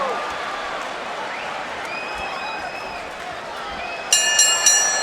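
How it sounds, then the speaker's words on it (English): Arena crowd at Madison Square Garden during the fourth round of the Cotto vs. Margarito super welterweight championship boxing match: a steady, dense roar of cheering and applause with whistles, swelling louder in the last second. "The crowd absolutely loves it here in Madison Square Garden."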